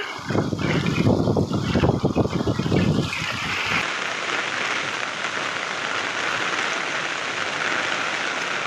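Heavy monsoon rain pours steadily on a flooded Konkan road, a dense constant wash of hiss, louder and choppier for the first three seconds before settling into an even roar.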